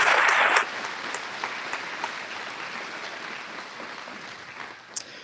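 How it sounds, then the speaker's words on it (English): An audience at a county fair coronation claps for the newly crowned Miss Jackson County and her court: dense, steady applause that is loudest at the start and then slowly thins out. "One more time, a round of applause for Miss Jackson County and her court."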